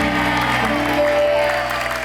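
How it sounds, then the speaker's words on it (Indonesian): Studio audience on the Take Me Out Indonesia dating show applauding for a contestant's mother, a steady wash of clapping under sustained music tones, even in level throughout. "Boleh kita berikan tepuk tangan buat Mama."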